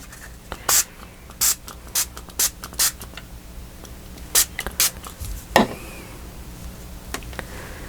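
Short spritzes of shimmer ink from a small nozzle spray bottle, about a dozen quick hissing bursts in an irregular rhythm with pauses between, close and fairly loud, with no voices.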